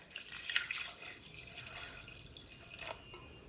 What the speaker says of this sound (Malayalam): അപ്പം അത് കാരണം കൊണ്ട് കുറച്ചധികം വെള്ളം ഞാൻ ഒഴിക്കുന്നുണ്ട് കേട്ടോ